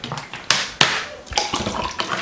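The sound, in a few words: water leaking down from tap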